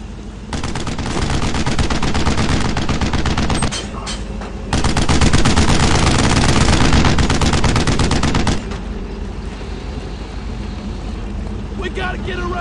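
Sustained automatic gunfire from a WWII machine gun in Brothers in Arms: Road to Hill 30 rattles loud and dense for most of the stretch, easing briefly around the middle and dropping lower near the end, with shouted voices mixed in.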